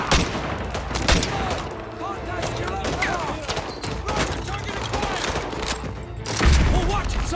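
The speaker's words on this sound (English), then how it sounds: "We're taking heavy fire from the school." Heavy gunfire fills a Call of Duty: Modern Warfare 2 firefight around a school, with bursts of shots, booms and rattling fire layered over battle noise and radio-style voices throughout.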